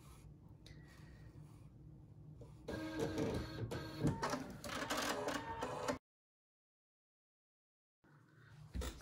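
A Husqvarna Viking embroidery machine sews the final stitch line on a felt play-food piece of ham, with a rapid, close mechanical rattle that pauses, goes silent for about two seconds, then resumes.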